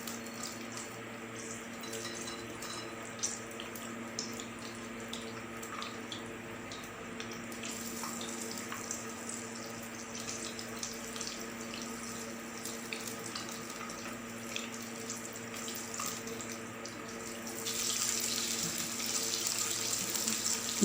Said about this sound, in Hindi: और ऑयल में हम फ्राई करेंगे।